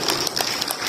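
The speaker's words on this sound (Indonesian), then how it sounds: "Tepuk tangan." Applause at an opening ceremony for a teacher-training showcase in Surabaya, a brief burst of many hands clapping in a hall, steady and moderately loud with no voices.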